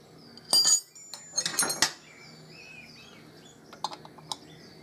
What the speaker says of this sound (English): And then I'll get the spanner. That was the wrong one.